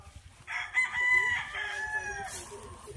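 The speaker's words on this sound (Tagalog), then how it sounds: "Punta tayo sa mga nakalabas na manok." Free-range chickens on a farm in Balungao, Pangasinan, with a rooster crowing loudly nearby over soft clucking from the flock.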